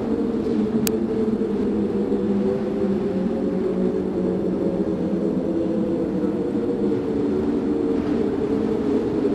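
An airplane flies near a tornado, its engine making a loud, steady drone with a wavering hum that holds without a break, with a sharp click near the start.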